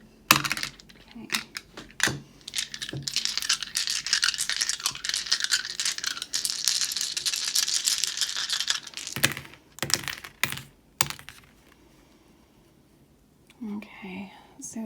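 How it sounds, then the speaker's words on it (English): Seven dice are rolled, making a run of light clattering rattles and taps that build for several seconds. A few sharp knocks follow, then a quiet stretch and brief soft movement near the end. "We're rolling 7 dice for you guys today."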